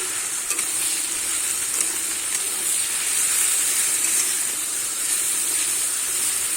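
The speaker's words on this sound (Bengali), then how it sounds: "এবারে বেটে রাখা কচুর পাতাটা দিয়ে দিলাম। দিয়ে আমি একটু ভালো করে নেড়ে চেড়ে নেব।" Ground taro leaves fry in a pan for a Bengali kochu shak dish, giving a steady close sizzle and hiss with soft scraping from stirring, continuous and fairly loud throughout.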